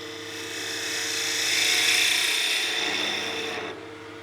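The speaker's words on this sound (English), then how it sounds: "Pushing just a touch too hard on the bevel, that's where that chatter's coming from." Gouge chattering against Bocote wood while turning a spinning top on a lathe, a rising and falling buzzing rasp that peaks midway and cuts off abruptly near the end.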